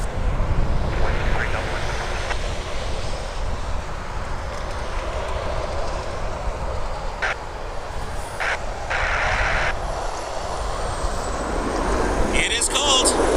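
Jet engine rumble from a WestJet airliner lining up on a snowy night at Toronto Pearson airport, a steady low roar with scattered clicks and brief higher tones over it.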